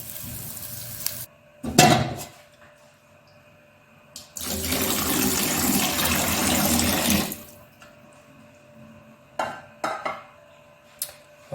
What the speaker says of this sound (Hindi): अब इसमें डालेंगे हम पानी।